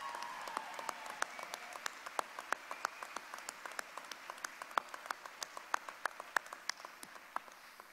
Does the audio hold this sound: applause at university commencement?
yes